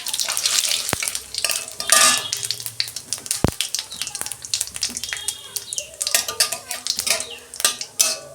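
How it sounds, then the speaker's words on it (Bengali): Whole cumin seeds with bay leaves and a dried red chilli crackle and sizzle in hot oil, mixed with sharp clinks of a metal spoon against the pan, loud and close. "গোটা জিরে দিচ্ছি আমি তেলের মধ্যে।"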